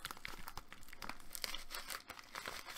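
Small bubble mailer crinkling and crumpling as a package of about 35 trading cards is pushed inside, a steady close-up rustle of plastic and paper with no talking.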